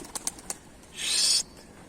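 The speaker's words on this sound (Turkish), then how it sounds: "Bakalım sabah uçurmadığım kuşlar var. Onlar da kalkacaklar mı diye ona bakacağım." A few light taps, then a brief loud flurry of wing beats as pigeons take off nearby, fading quickly into quiet.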